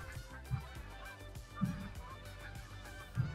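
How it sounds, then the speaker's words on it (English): Geese in the hunting game Call of the Wild honk three times at a distance, the calls spaced roughly a second apart over a faint, steady outdoor background. "Goose is everywhere, getting distracted."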